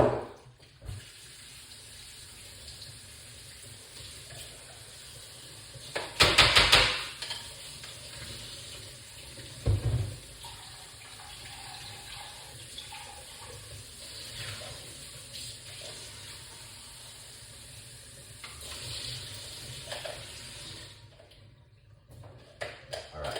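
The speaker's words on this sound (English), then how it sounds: "So I wash off my ingredients, the blueberry and the blackberry" Running tap water rinses blueberries and blackberries in a kitchen sink. There is a steady soft stream with a few louder splashes and handling noises, and no voices.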